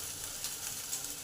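Chili chicken pieces, softened by a lemon juice marinade, shallow-frying in oil until red on both sides, giving a steady close sizzle with no talk.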